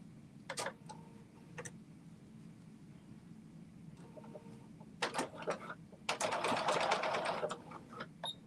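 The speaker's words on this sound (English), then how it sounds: "I'm doing a back stitch too, in the beginning again, just to make sure that nothing falls apart" A sewing machine back-stitches a leather-style belt wallet in short bursts, with a few brief runs early on and a longer, louder stretch of steady stitching near the end, close and alone against a quiet room.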